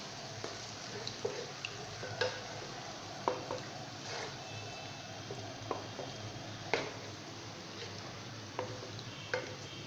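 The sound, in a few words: stir-frying chicken karahi masala in a pan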